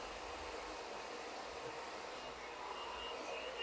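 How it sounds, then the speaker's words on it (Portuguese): A hair dryer blowing on hair while styling it for beach waves, a steady airy whoosh that holds at an even moderate level for several seconds, with no speech over it. "Eu ligo o secador, venho aqui, ó, sem encostar o secador no cabelo"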